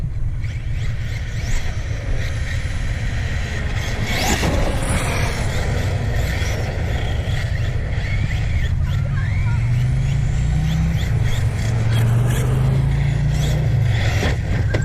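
An Arrma Kraton EXB radio-controlled car runs a ramp session, its electric motor whining steadily with gritty scraping and a rising high-pitched whine near the end, loud and continuous throughout.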